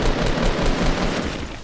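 Rapid, dense bursts of gunfire in a battle royale video game, loud and close, a continuous rattling volley for under two seconds with no talk.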